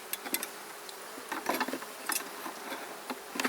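Honey bees buzz in a steady, fairly quiet drone around an open hive, broken by brief louder passes of single bees flying close by.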